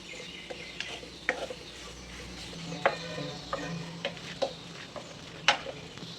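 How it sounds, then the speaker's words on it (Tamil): A spoon stirs Chettinad liver gravy in oil in a pan, with intermittent scraping taps against the metal over a low sizzle, fairly faint and close. "எண்ணெய் கசிஞ்ச வரைக்கும் கொஞ்சம் நல்லா கிளறி விடுங்க"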